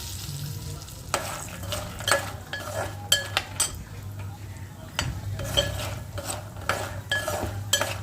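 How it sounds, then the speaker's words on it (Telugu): Mung bean vadiyalu fry in oil over a low flame, giving a steady close sizzle. Frequent scraping stirs and metal utensil clinks against the pan sound throughout. "ఈ పెసర వడియాలు అయితే వేపేస్తున్నాను"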